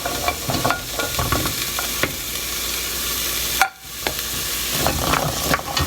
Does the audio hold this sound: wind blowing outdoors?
no